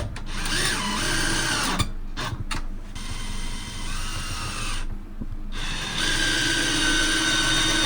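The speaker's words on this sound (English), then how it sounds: "And then you screw on the top batten." Power drill driving screws through wooden battens into a van floor, with a steady whirring motor broken by brief pauses and bursts, close and loud throughout.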